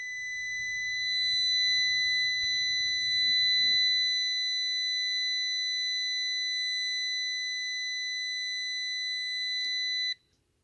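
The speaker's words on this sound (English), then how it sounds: "The beep is just indicating that there's continuity." A multimeter emits a steady continuous electronic beep on a continuity test during a Lamborghini Murcielago LP640 repair, holding unbroken for about ten seconds before cutting off abruptly, with faint handling noise near the start.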